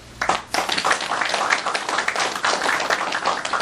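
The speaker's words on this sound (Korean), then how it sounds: "격려의 박수 한번 부탁드립니다" A burst of applause from a gathered crowd at a Korean Confucian academy restoration completion ceremony, steady and dense for a few seconds after a brief pause at the start.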